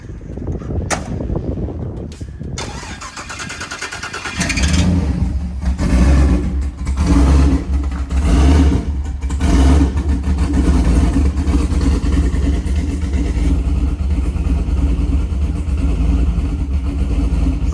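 A turbocharged LS-powered street car engine fires with sharp popping bangs and then settles into a loud, deep roar, surging through repeated revs at close range with no voices over it.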